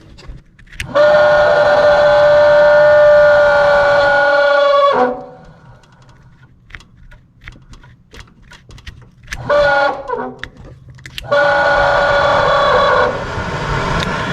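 A Toyota FJ40 heater blower fan roars with a loud, whining drone. It cuts off for several seconds of clicks and rustling, then starts up again.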